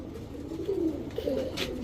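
Soft, low pigeon cooing repeats in a steady murmur, fairly close, at a pigeon sale, with no voices over it.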